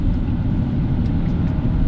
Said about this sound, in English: It's a healthy engine.